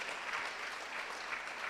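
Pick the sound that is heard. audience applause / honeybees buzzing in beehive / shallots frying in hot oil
audience applause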